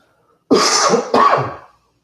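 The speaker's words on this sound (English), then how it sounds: "Still have a cough." Two sharp coughs in quick succession, close and fairly loud, the second trailing off, with silence before and after.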